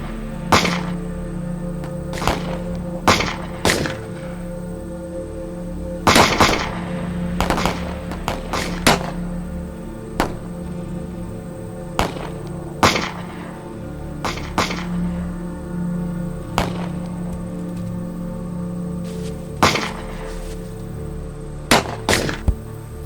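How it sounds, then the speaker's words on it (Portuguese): Gunshots ring out in a film shootout, sharp cracks scattered irregularly, some single and some in quick clusters, over a constant low hum. "Continuem atirando."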